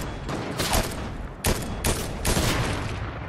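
Gunfire in a Fortnite match: several loud, close shots in quick succession, each a sharp broadband crack with a lingering rumble. The bursts are spaced irregularly across a few seconds and no one talks over them.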